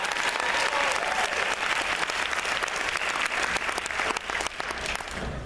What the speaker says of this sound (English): Welcome them with a strong round of applause. Come on, clap it up, clap it up.